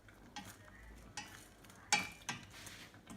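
Homemade cough syrup stirred in a pot, soft scraping strokes with a few sharper clinks of a spoon against the metal, quiet and close, over a low simmer.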